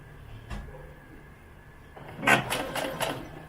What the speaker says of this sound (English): line up the foot of the sewing machine along the edge of the fabric